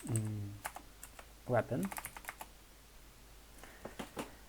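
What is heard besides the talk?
typing code on a computer keyboard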